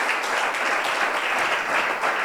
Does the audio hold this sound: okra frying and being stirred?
no